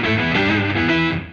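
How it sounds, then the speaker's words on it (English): A loud, buzzy sawtooth lead synth tone from a BOSS SY-200 guitar synthesizer pedal, played on guitar, holds as one sustained note with shifting pitch and then cuts off. "128 patches, starting with a saw lead."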